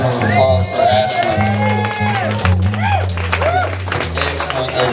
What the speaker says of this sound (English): How about a round of applause for Ashley?